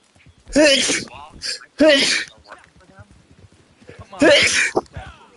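Several sharp sneezes burst out loud and close, three in a row with short gaps between them, while someone talks around them.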